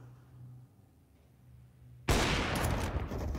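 Gunfire wall bangs in Counter-Strike on the Nuke map come after a quiet hum, then a sudden loud burst of rapid shots continues to the end.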